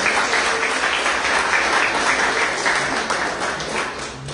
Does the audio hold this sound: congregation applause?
yes